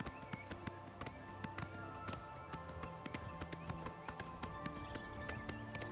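Horse hooves in the Skyrim video game, a quick, regular clip-clop of galloping footfalls, fairly faint and steady under the game's ambient tones.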